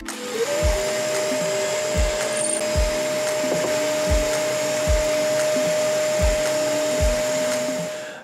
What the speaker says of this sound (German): werde jetzt einfach hier ein Stück vom Rand entfernt, das können 2, 3, 5 mm sein, spielt keine Rolle, ein Loch reinbohren.